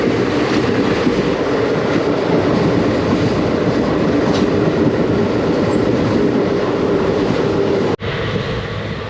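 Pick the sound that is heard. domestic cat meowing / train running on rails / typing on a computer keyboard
train running on rails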